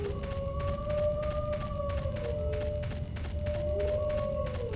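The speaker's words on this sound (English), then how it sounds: "Some really excited sounding wolves." Excited wolves howl in the video game Silent Hill 4: The Room, long rising and falling tonal cries layered over a steady low ambient rumble, several voices overlapping continuously and fairly loud throughout.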